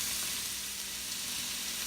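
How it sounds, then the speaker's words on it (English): Pork sautéing in a pan, a close, steady sizzle with even crackle throughout and no voices. "We will saute our pork for a few minutes until it becomes brownish."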